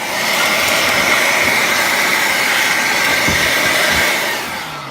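A Bosch GBL 18V-120 cordless blower runs steadily on leaves, giving a loud, continuous whooshing rush with a whining tone that holds for several seconds before easing slightly at the end.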